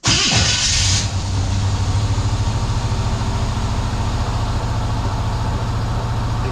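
A starter motor whirs briefly before the engine of a Chevrolet squarebody truck with a newly installed exhaust system catches and settles into a loud, steady rumbling idle close by.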